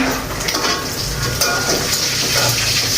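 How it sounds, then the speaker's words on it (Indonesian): Fish sizzles and spatters steadily in hot oil, with a few faint clinks of a utensil against the pan. "ini aku lanjut goreng ikan asinnya"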